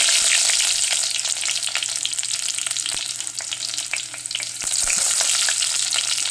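Chopped shallots go into hot oil where mustard seeds have already popped alongside dried red chillies, giving a loud, close, continuous sizzle sprinkled with sharp crackles and pops, with no voices.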